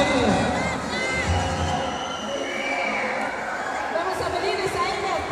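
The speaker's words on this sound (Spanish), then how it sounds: "¡Fuerte los aplausos!" Crowd noise with cheering at a carnival parade, a dense, steady wash of many voices and applause that runs without a break, with an announcer's voice mixed in.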